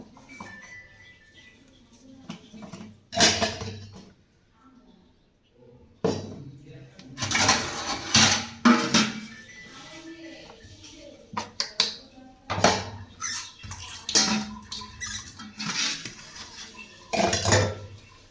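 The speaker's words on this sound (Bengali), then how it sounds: "হাঁড়ি পাতিল ধোবো।" Pots and pans being washed by hand on a foggy morning, with irregular metallic clanks, scrapes and clinks of utensils, some bursts louder and close, separated by quieter gaps.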